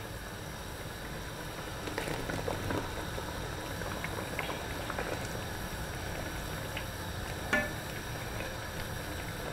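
About 500 ml of water boils in a pot, bubbling quietly with a soft, constant seething hiss and a few faint clicks and taps over the top.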